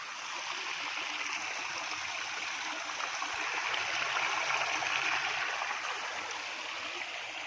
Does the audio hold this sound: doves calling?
no